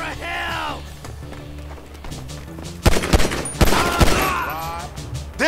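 Shootout in GTA 5 story mode: several loud gunshot bursts in quick succession, close and sharp, with voices talking and shouting before and after.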